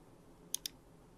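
Two quick, crisp clicks from a single computer keyboard key, close and fairly faint over a quiet room hiss.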